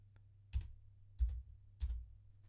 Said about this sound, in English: You can just start typing.